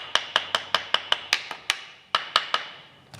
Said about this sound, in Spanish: ahora con el cabo del martillo lo golpeamos ligeramente